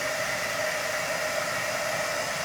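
A heat gun blows steadily on a layer of glue to dry it, giving a constant close airy whoosh with a faint motor whine and no pauses.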